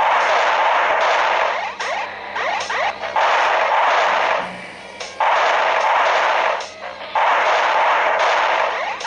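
Gunfire in the Switch game Bridge Strike: sustained loud, dense bursts of firing and crashing, broken by a few short pauses, with no talk heard.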